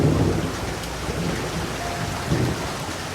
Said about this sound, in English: The rain comes heavy as the leaves turn orange.